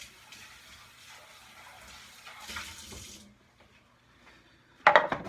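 Running water rinses a plastic part of a Fullstar spiralizer slicer, a steady tap stream for about three seconds, then quiet, then a short sharp clatter of the piece near the end.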